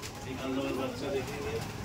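Giribaz and Madras pigeons coo softly in a loft, a few low warbling calls heard fairly quietly, with a voice talking around them.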